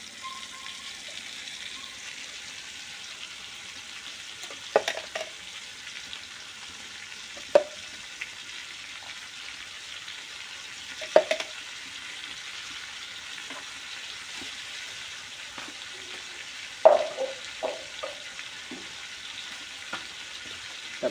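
Faint, soft frying of a spice paste of mustard, cumin, ginger, garlic and dried chilli in a pan, with occasional louder clinks and stirring knocks every few seconds over a low background hiss.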